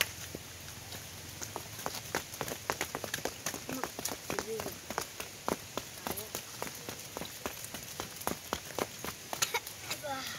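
Rain patters onto a surface outdoors during fitness training, with a string of sharp, irregular drops and taps that stay fairly quiet for about ten seconds.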